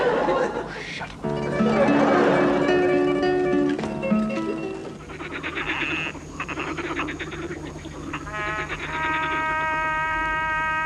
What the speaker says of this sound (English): The frogs are restless tonight